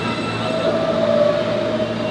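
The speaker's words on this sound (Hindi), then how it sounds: "यहाँ से हम लोग वो लेंगे F ट्रेन जो कि जाएगा सीधा जैक्सन हाइट्स" A New York City F subway train running, a loud, steady rumble of wheels on track with a sustained metallic whine layered over it, heard from inside the moving train.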